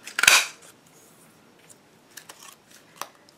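A petite petal punch snaps through a scrap of cardstock, one sharp crisp click near the start, then faint paper rustles and small taps afterward.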